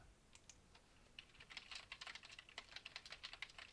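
Quick, light keystrokes tap on a computer keyboard, sparse at first and then a steady run of soft clicks, close up and faint with no voices.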